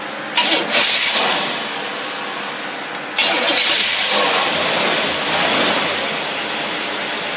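A marine engine with a carburetor cranks and fires up, then settles into a loud, steady close-up running roar with a brief dip before it picks up again.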